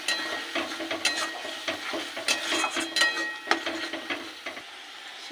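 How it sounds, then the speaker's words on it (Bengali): Ground masala paste sautéed in a pan with salt, turmeric, cumin powder and coriander powder, a steady sizzle broken by repeated scraping, clinking stirs of the spoon against the pan, close and continuous. "মশলাটাকে একটু কষিয়ে দেবো।"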